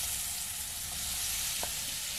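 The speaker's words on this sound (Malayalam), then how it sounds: "മിക്സ് ചെയ്തതിന് ശേഷം നമ്മൾക്ക് എണ്ണയിലിട്ടിട്ട് വറുത്തെടുക്കാം" Potato pieces frying in a modest amount of oil, giving a steady, close broadband sizzle with a faint scrape or stir partway through, no voices.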